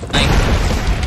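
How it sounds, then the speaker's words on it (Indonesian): A loud, sustained explosion roar in the side-scrolling action game Broforce, a dense blast filling the whole moment with no pause. "sini ada yang meledak, malah akan kena lagi ledakannya"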